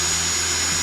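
An electric drill runs steadily and loudly close by, a dense continuous whirring motor noise held for under a second.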